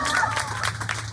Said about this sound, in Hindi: जोरदार ताली बजाइए, सबको ही बजाइए